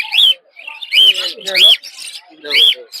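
Lovebirds chirp and squawk in repeated bursts at a village bird market, bright close calls separated by short pauses, with no speech.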